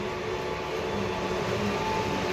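A train runs at a train show in North Platte, Nebraska, a dense continuous rumbling roll that stays steady and fairly close for the whole stretch, with no talk.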